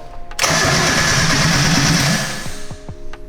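A turbo kart engine is started with the key: after a brief crank it catches with a loud, buzzing roar, holds for under two seconds, then drops to a rougher idle with a few sharp clicks or pops.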